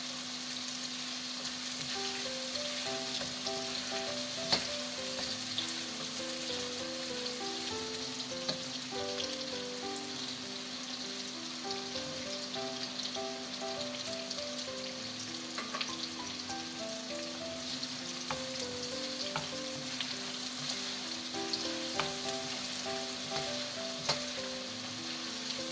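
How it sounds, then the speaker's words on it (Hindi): Onion and ginger-garlic paste frying in a pan, a steady sizzle with occasional stirring clinks and scrapes throughout, fairly close and even in level, with no talking. "तो फिर उसके बाद हम इसमें अदरक लहसुन का पेस्ट डालेंगे।"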